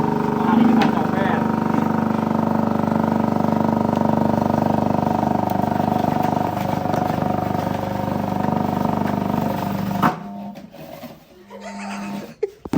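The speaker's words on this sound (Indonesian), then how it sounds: "Motor akan menyala." An electric motor on a renewable-energy-powered straw chopper runs from an inverter, giving a steady loud drone with a constant hum for about ten seconds before it cuts out, followed by quieter handling noises and a brief voice.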